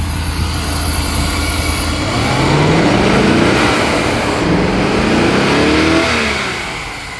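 A classic car with a wasted spark ignition system revs its engine in a steady, loud run, rising and falling in pitch over several seconds before settling back, with no talking.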